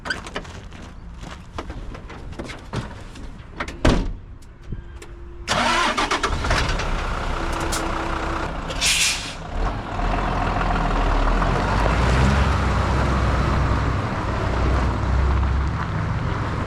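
A 16-ton dump truck's diesel engine cranks with sharp ticks and thumps, then catches at about five seconds into a steady, loud, close rumbling idle that holds to the end, with no talking.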